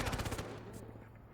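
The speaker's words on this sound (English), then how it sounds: "Who is shooting there?" Rapid automatic gunfire in the video game Cyberpunk, a quick burst of about six close sharp shots in a fast rhythm, fading into a brief echoing tail.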